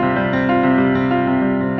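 Keyboard chords played in a sequence of three patterns, a steady, sustained wall of harmonic tone with small rhythmic pulses, loud and close with no talking.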